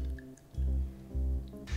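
A bottle of Ninkasi Sleigh'R winter ale, a 7.2% seasonal beer, is poured into a glass. Close, low glugging surges come in two or three pulses, with soft drips between them and no talking.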